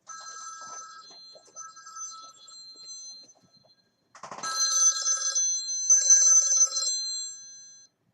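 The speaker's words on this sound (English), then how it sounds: "Why is my phone ringing?" A mobile phone's electronic ringtone trills in repeated bursts, faint at first and then louder from the middle on, close by and clear with no voices over it.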